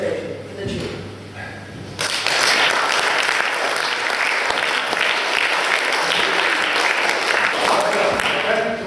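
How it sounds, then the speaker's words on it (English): An audience at a school debate breaks into loud, sustained applause after a brief quiet pause, the clapping continuing steadily to the end. "we applaud the result, we don't cheer and stand"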